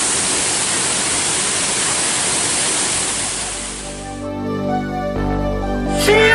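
The Baruttung Golla three-tier waterfall roars as a loud, steady wash of falling water for about four seconds, then gives way to music.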